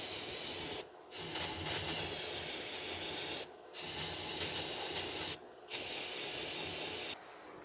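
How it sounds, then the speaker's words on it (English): Brake cleaner sprayed in bursts over the cleaned engine surfaces of a 2006 Mazda 3 2.3 during a coolant outlet housing job: four loud, close hissing sprays separated by short pauses. "So we're just going to wash this down with brake cleaner."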